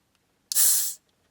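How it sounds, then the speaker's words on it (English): A Dr Pepper bottle cap twists open with one sharp burst of escaping gas, a bright hiss lasting about half a second before cutting off into silence. "let's pop the cap on this. I wonder if it'll go fizz up."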